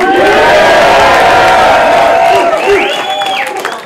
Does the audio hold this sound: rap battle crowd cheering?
yes